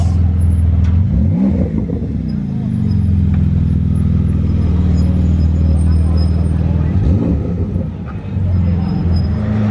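A Porsche GT2 RS engine rumbles steadily, with a couple of revs rising and falling over a busy outdoor crowd background at the Gumball 3000 in Monaco.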